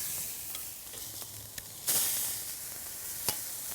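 Zucchini pieces sizzle steadily on a hot charcoal grill, a soft continuous crackle broken by sharp clicks of tongs or a spatula as the pieces are shoved aside, with one brief louder hiss.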